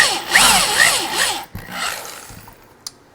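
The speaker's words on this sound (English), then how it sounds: "But I got my 5/16 inch drill bit, so I'm gonna go ahead and drill a couple holes." A handheld power drill with a 5/16 inch bit bores holes into a log for mushroom plug spawn, the motor whining with rising and falling pitch as it bites into the wood, then pausing briefly before a second shorter burst.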